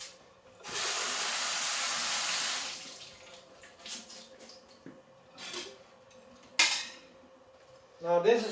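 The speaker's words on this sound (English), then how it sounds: "So we wash the beans." Beans are washed at a kitchen sink: a burst of running tap water, then clinks of a pot and splashes as they are swished, close and moderately loud.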